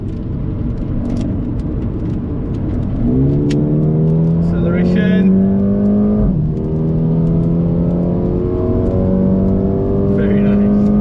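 A Mercedes-Benz A35 AMG's engine on the Sepang circuit climbs steadily through the revs in a loud, droning pull from inside the cabin, dips at a gear change, then builds again, with faint talk underneath.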